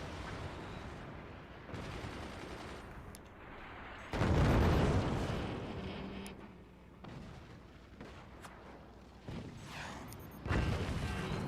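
Repeated booming explosions and impacts from artillery shots striking an enemy base and its core in the Forts real-time strategy game, loud and dense, with a heavy blast burst midway and further impacts following, no voices.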